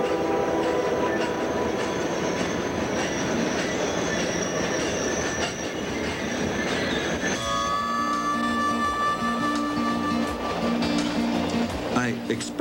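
A passenger train crossing Canada at night rolls along with a rhythmic clickety-clack of wheels on rails, then high metallic squeals and whining tones join in. A voice talks over the track noise.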